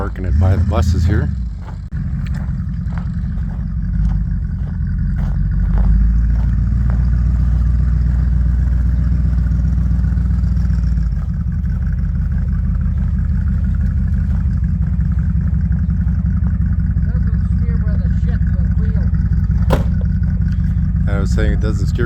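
A Bombardier wide-gauge snow vehicle's engine runs steadily and loudly throughout as it is driven and parked beside buses, with a deep continuous rumble, clatter and occasional revs, while people talk over it.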